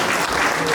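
A brief burst of crowd applause at a public gathering, loud and dense, with a voice faintly mixed under the clapping.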